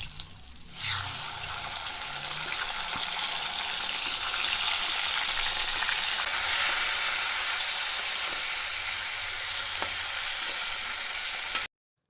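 Fish heads fry in hot oil with a continuous, even sizzle and crackle that holds steady, close and fairly loud, before cutting off abruptly at the end.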